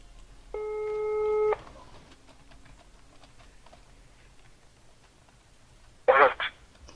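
A telephone call rings out with one sustained electronic ring tone lasting about a second, followed by quiet and a brief burst of sound near the end.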